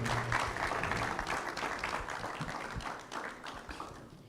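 Workshop attendees clap in a moderate round of applause, a scattered crowd of hands fading gradually, with a low hum of voices underneath.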